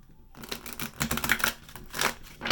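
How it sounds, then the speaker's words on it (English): A tarot deck shuffled by hand close up, a steady run of crisp papery riffles and snaps over a couple of seconds, with no voices. "One more shuffle."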